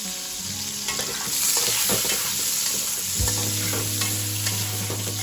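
Cashew nuts fry in oil alongside previously fried mushroom, carrot and capsicum, with a continuous bright sizzle and the clatter of stirring against the pan, close and loud, with no voices.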